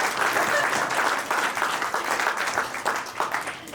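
Audience applause at a political campaign launch event for a Howard County Executive candidate, a steady crowd clapping that holds for several seconds at fairly even loudness.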